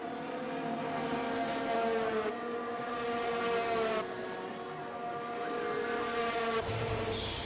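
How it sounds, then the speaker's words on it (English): Several Formula 1 race car engines drone on track in a sim racing game at the Azerbaijan circuit, a steady, dense layered whine at fairly close range, continuous with no talk over it. "judging by the engine sounds, a few people went out for the first laps"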